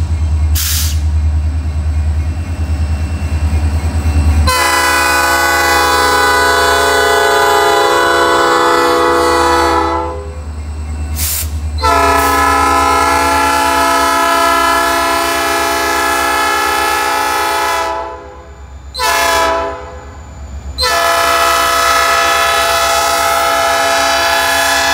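A freight train passes a crossing in the rain, its loud horn sounding in long, sustained blasts separated by brief gaps over a continuous rolling rumble.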